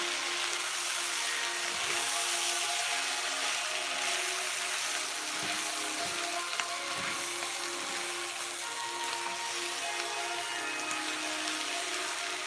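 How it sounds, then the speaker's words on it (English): Potatoes fry in a skillet with a steady, bright hiss and sizzle that holds evenly throughout, with a few faint utensil taps and no speech. "And you just cooking these potatoes until they is fork tender"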